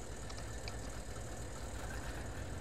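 Tank engine idling and warming up in World of Tanks, a steady low rumble that runs unbroken and fairly loud from start to finish, with no voices.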